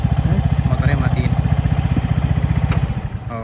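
A Vespa Primavera ABS scooter idles with a rapid, even putter close by, then its engine cuts off and the sound fades to quiet at the end.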